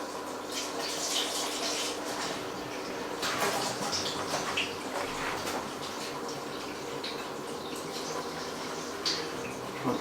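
Water sprays and rinses down the inner walls of a BrewZilla Gen 3.1.1 all-in-one brewing vessel, a steady splashing wash with dripping, close and fairly loud, running alone without talk.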